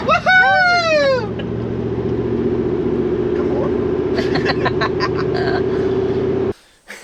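A car climbing a hill in third gear on a Tasmanian back road heading to Cockle Creek, its engine holding a steady, even drone; a brief excited vocal whoop comes at the start and small clicks and rattles appear near the end.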